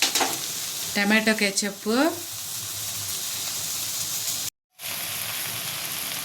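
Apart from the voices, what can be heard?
vegetable Hakka noodles stir-frying in a pan on high flame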